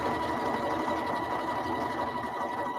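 A sewing machine top stitching a quilt border at high speed, a steady, even mechanical whir running continuously without pause.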